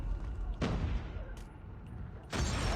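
Grenade blasts and gunfire in Call of Duty Mobile during a competitive league match, with two sharp bursts cutting in over a muffled, rumbling background of combat noise, moderately quiet overall.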